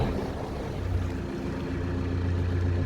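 A narrowboat's diesel engine revs up in forward gear to hold against the current near a canal lock on a hot summer day, giving a steady low drone and chug throughout.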